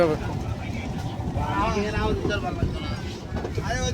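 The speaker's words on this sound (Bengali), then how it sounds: "আমাদের এই ইঞ্জিন চালিত নৌকা বোলাগঞ্জের উদ্দেশ্যে রওনা দিবে" An engine-powered passenger boat travelling on a river toward Bholaganj in Sylhet, a steady low motor drone with water and wind noise throughout, while people talk over it.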